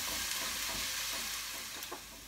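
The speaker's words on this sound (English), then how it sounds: "So now saute this until it turns almost brown. Stir it nicely." A dense, loud sizzle fills the brief moment as onions and aromatics are sautéed and stirred in a pan for Kerala fish curry, with faint utensil scrapes close by.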